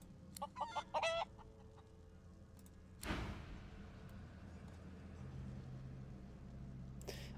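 A hen in Divinity: Original Sin 2 gives a quick burst of clucks at the start. A sudden rustling thump follows, then a low, steady game ambience.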